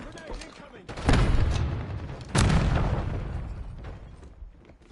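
Frag grenade blasts in Call of Duty Black Ops 6, two deep booming explosions a little over a second apart, each trailing off, loud over game sounds with voices in the mix.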